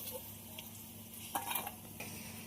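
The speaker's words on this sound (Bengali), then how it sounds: "নুন হলুদ দিয়ে খুব ভালোভাবে নেড়ে দেবো" Fried bitter gourd is stirred in a pan with salt and turmeric: soft scraping and a faint sizzle, with a few brighter clinks of a spatula against the metal pan near the middle, quiet and close.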